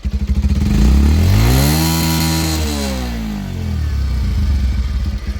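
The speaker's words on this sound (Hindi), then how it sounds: "तो भाई ये साउंड थी पल्सर 125 की" A Bajaj Pulsar 125 single-cylinder motorcycle engine idles with a steady putter, then revs up and eases back down before settling into idle again, close and loud.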